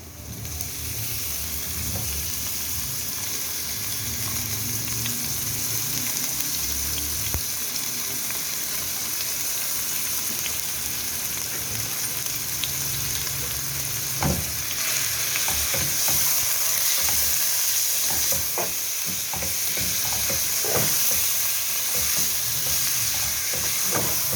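Minced meat sizzles steadily in a hot pan with garlic, a continuous close frying hiss with occasional scraping stir clicks toward the end.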